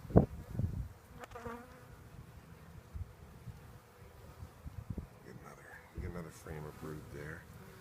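Honey bees hum steadily from an open hive during frame inspection in a queen banking setup, a continuous close buzz with a person talking over it.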